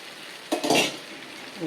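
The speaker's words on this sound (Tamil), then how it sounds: "இப்போது இதில் கத்திரிக்காயை போடணும்." A brief splash and clatter as brinjal is tossed into a frying pan, followed by a soft steady sizzle.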